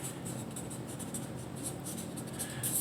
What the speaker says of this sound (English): Let me write this down here.